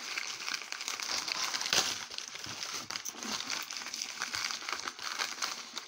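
A mailed envelope is cut open along its ridge, giving a close, continuous crinkling and rustling of paper.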